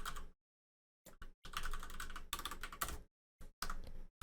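Typing on a computer keyboard, close and crisp bursts of rapid key clicks separated by short silent pauses.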